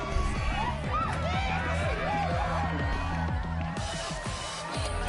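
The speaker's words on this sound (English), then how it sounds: "And a mosh pit opens in the smoky dark in front of the stage." A dense, noisy concert crowd in Life is Strange: Double Exposure roars and shouts together around a mosh pit over pounding rhythmic beats, a continuous wall of cheering and yelling that never lets up.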